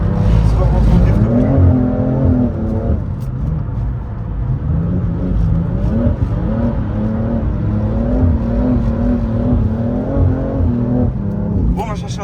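A car drifts on a race circuit, its engine revving and wavering loudly and continuously as the tyres lose grip, with people talking over it.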